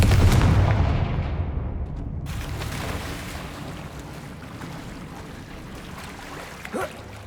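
A Confringo fire spell blast in Hogwarts Legacy, a heavy booming explosion at the start that rolls off into a long fading rumble and hiss, with a small spike near the end.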